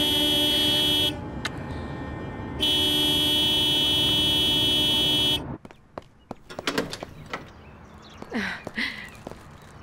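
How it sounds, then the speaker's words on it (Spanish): A car horn blares in two long, steady blasts, the second held for about three seconds, followed by quieter clatter and soft movement sounds. "Quizás podría tocar la bocina para que lo dejen pasar."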